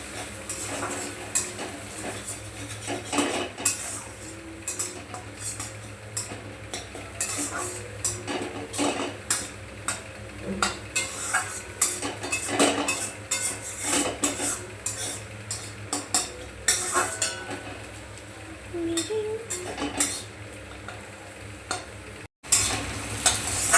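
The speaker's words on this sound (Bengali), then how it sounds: "এই ডিমটাকে একটু নাড়িয়ে নিই।" An egg frying in a pan while being stirred, with a low steady sizzle under frequent sharp scrapes and clinks of a utensil against the metal, close-up and busy throughout, with no talking.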